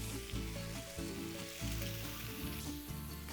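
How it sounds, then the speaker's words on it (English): Chorizo sizzling in a frying pan with rendered bacon fat and potatoes for a breakfast burrito, a steady close frying hiss with low tonal hum and occasional pulsing swells. "So in we go with the chorizo."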